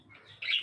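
Lovebirds in a breeding aviary give a short, bright chirp that rises sharply above a faint background hum, close and fairly loud for a brief moment.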